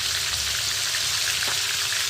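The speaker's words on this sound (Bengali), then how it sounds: "মাছটা ভাজা হতে থাক," Snakehead fish (shol) frying in hot oil in a home kitchen, a steady, close, dense sizzle with faint crackles and no talking.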